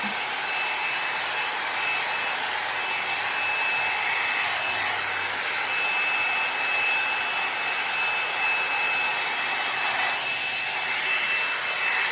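A L'ange LeVolume hot-air blow-out brush drying hair gives a steady, loud, continuous whoosh of blown air with a motor whine, running unbroken throughout without talk.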